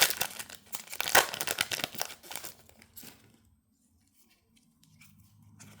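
A Japanese Pokémon Celebrations 25th anniversary booster pack wrapper is torn and crinkled open, with close, loud rustling and ripping for about three seconds before falling to near silence with faint handling.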